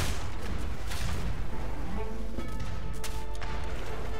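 Heavy booming cannon broadside fire in Age of Empires III, a dense rumbling barrage of blasts with crashing impacts under constant noisy background.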